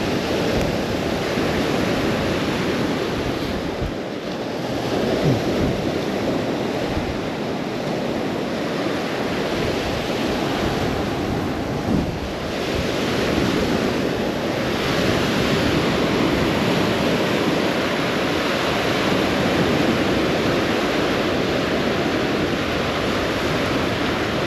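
Steady surf washing onto a Lake Superior beach on a clear day, a continuous broad roar with gentle swells and light wind rumble, no voices over it.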